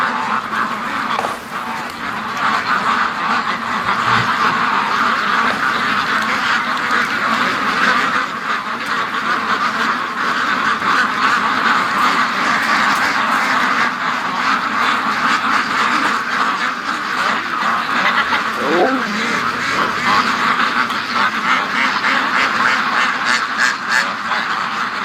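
Muscovy ducks quack near the pen on a free-range duck farm, a steady flock chorus that carries on without a break.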